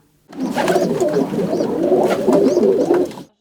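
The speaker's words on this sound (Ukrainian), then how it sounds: "голуб уже воркує з голубкою" Decorative pigeons in a cage coo to one another, a close, continuous soft burbling with rising and falling notes and no talking.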